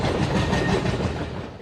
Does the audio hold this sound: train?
yes